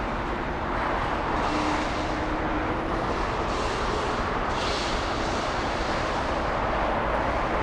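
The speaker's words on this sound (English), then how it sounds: "We also have an American 787." An American Airlines Boeing 787 Dreamliner at LAX produces a steady, dense engine roar at moderate distance, continuous and even with no pauses.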